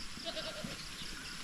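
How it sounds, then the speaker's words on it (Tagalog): Two farm goats give a brief, faint bleat, a short wavering cry over steady outdoor background noise. "At yung kambing namin na dalawa dito"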